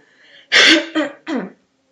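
A person with a sore throat coughs and clears their throat close to the microphone: one harsh, rasping burst followed by two shorter guttural clears, then silence.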